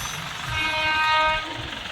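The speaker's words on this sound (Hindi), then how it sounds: "देखिए अभी ट्रेन की आवाज़ हुई, शायद ट्रेन आ रही है" A train passes near a railway track, sounding a steady, fairly distant horn for about a second over low rumbling background noise.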